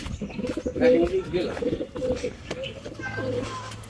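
Racing pigeons coo at the loft in soft repeated throaty bursts close by, with a few chirps and faint background voices.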